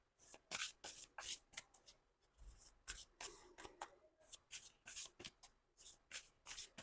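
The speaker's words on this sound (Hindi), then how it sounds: "एक दो कार्ड्स और मैं निकाल लेती हूँ" Tarot cards are shuffled and drawn by hand, a close, quiet series of rapid riffling and flicking bursts in an irregular rhythm, with no talking.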